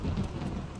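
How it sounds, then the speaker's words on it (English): Rain and thunder in the video game Morrowind form a continuous low rumble with dense patter over it, steady and fairly loud, with no talking. "Not a fan of thunder."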